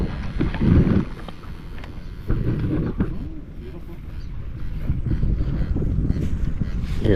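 Wind buffets the microphone in low, gusty rumbles, with a voice speaking intermittently over the blustery noise.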